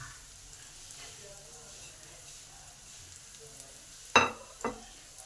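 Ground turmeric, chilli, cumin and coriander frying in hot oil for muri ghonto give a faint, steady sizzle, broken near the end by two quick clinks of a utensil against the pan.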